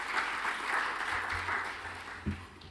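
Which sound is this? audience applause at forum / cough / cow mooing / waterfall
audience applause at forum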